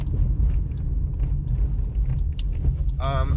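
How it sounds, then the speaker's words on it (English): Clunking from a $200 used car while driving in winter, a steady low rumble with scattered mechanical knocks and a creaking sound near the end. "I don't know if you can hear any of that clunking, but it's not great"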